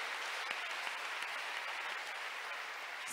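A church congregation applauds during a Sunday sermon, a dense, steady wash of clapping from many hands that holds at an even level for a few seconds without pause.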